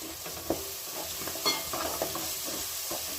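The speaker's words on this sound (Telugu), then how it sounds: "మసాలా పేస్ట్ వేగిపోయింది." Masala paste for chicken curry fries in a pan with a steady broadband sizzle, broken by a few sharp scraping clicks of stirring. No voices.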